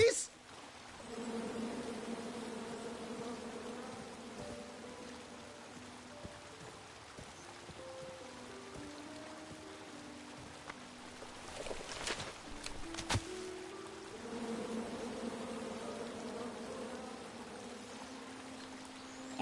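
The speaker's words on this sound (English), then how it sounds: "Come at me, bees!" Angry bees buzz in the King's Quest video game, a sustained droning hum that shifts in pitch over a game soundscape, with a few sharp effects partway through.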